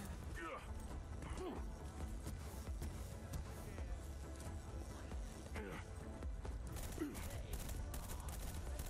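Gunfire in the first-person shooter Battleborn, rapid shots and bursts crackling steadily through a dense, busy game mix with constant effects and occasional voices underneath.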